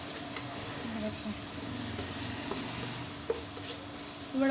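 Aloo katli curry with yogurt is fried and stirred in a pan. It gives a quiet, steady sizzle with occasional soft scraping taps from the spoon.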